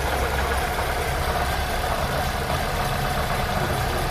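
An Opel Vectra 1600cc engine with water in its fuel idles roughly, a steady loud close rumble with an uneven, shaky knocking texture throughout, alone.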